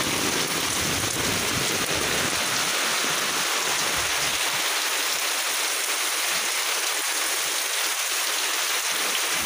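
Heavy rain pours steadily in a village beside a pond, a dense continuous hiss of drops striking surfaces, close and loud with no voices.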